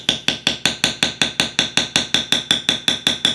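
A mallet strikes a metal beveling tool on leather while carving roses: a rapid, even series of about fourteen crisp, ringing taps, close and clear with nothing else audible.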